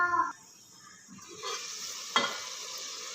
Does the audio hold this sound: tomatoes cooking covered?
yes